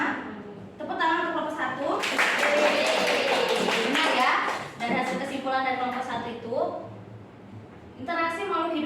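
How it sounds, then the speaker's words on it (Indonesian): Students in a classroom applaud a group after its presentation: a dense burst of clapping rises in the middle, with voices talking before and after it. "tepuk tangan untuk kelompok 1"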